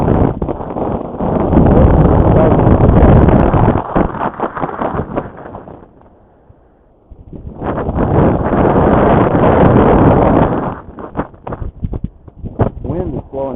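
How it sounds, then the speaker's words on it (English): Strong wind buffets the microphone on a beach, a loud broadband roar that surges, drops to near quiet for a moment, then returns in heavy gusts before breaking into choppy bursts. "The wind is blowing so hard this way"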